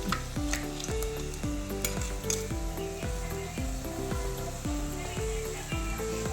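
Crab ghee roast sizzling in a clay pot, with a spoon scraping and stirring in a steady repeated rhythm over a constant loud frying hiss, close by.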